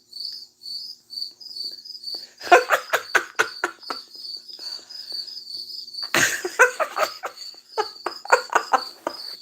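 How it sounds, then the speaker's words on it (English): Crickets chirp in regular high-pitched pulses, their steady trill broken by bursts of rapid clicking and rustling near the start and middle, fairly close and clear with no talking. "Those are some happy crickets."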